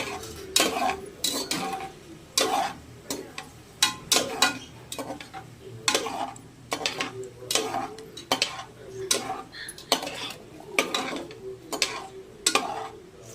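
Cinnamon, cloves and bay leaf stirred in hot oil in a pot, with a spoon repeatedly clinking and scraping against the metal in a steady rhythm, close and clear, over a faint sizzle.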